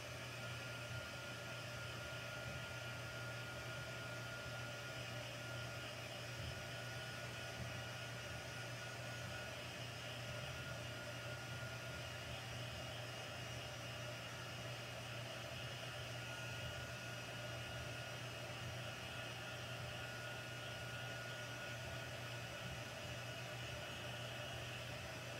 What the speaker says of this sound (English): Because it is craft ink, it needs to be dried. So I'm using my heat tool.